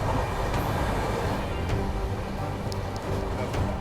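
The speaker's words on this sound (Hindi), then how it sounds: "हमें रोक करके सचखंड एक्सप्रेस को निकाल दिया। फाइनली हो गया ओवरटेक।" The Sachkhand Express rolls past a halted Rajdhani train, a loud, steady rumble of passing wagons with faint wheel clatter and occasional sharp clicks, heard from inside the stopped train.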